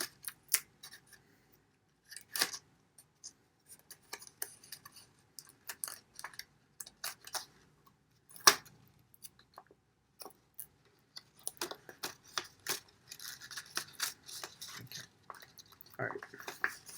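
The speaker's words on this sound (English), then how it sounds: "I'm going to use tape in order to connect these." Tape being pulled from a roll and pressed onto paper praying mantis blades, heard as scattered short crackles, rips and taps, faint and close, with quiet pauses between them.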